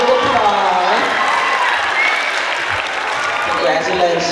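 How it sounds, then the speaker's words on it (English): Sustained applause from a middle school program audience, steady and fairly loud, with voices and a few cheers mixed in throughout. "Round of applause."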